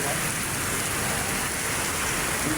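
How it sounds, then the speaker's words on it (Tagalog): Steady, dense rain from a typhoon pouring down hard, a constant hissing roar of drops with no pauses. "Biglang umulan ang lakas ng ulan."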